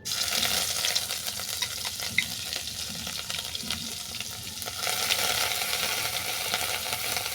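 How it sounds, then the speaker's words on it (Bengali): Ginger paste frying in oil left from frying vegetables, a continuous loud sizzle with scraping stirs and occasional clicks of a spoon against the pan, growing slightly brighter toward the end with no voices. "এরপর এই ভাজা তেলের মধ্যেই দিয়ে দিচ্ছি আদা বাটা"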